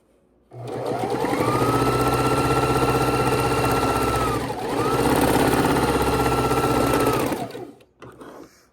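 A sewing machine runs steadily while stitching through matched quilt-star seams, a loud continuous mechanical whir in two long runs with a brief slowdown between them, then stopping.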